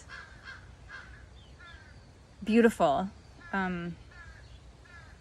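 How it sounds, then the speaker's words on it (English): Several crows caw in the distance, a few harsh calls spaced apart, with a nearby voice speaking quietly over them. "You can hear the crows in the background."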